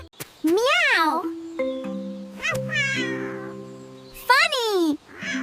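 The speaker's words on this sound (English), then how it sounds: "Meow!" Cartoon cat meows from the Roro & Friends forest cartoon: several rising-falling meows, close and loud, broken up by sustained musical tones and short chimes.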